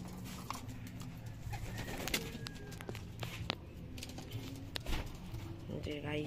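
Pet birds, seemingly pigeons or doves, cooing and calling, with faint chirps and soft thumps over a continuous low background hum.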